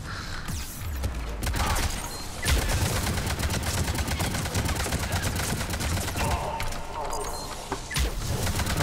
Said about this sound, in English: I'm shooting the fuck out of his head.